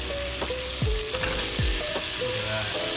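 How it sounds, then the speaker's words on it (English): Rainbow trout searing in a hot pan, a loud continuous sizzle with a few scraping stirs and clinks of a utensil against the pan. "I think that's about now, and then you'll see you get a really nice sear."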